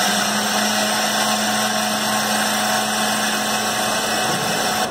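A loud, continuous motor whine runs unbroken throughout, steady and close, like a kitchen blender running at full speed.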